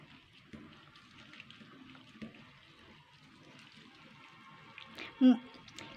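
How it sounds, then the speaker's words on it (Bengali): Flattened rice (poha) is rinsed in water with soft sloshing and trickling, fairly quiet and close. A voice talks faintly underneath, and a louder splash comes near the end. "চার পাঁচবার ধুয়ে নেবো এভাবে ডোলে ডোলে ধুয়ে নিতে হবে চার পাঁচবার"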